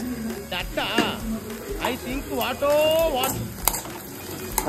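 Whole cloves sizzling and frying in hot oil in a pan for a brinjal masala pulao, a steady crackle with stirring scrapes, while a person talks over it.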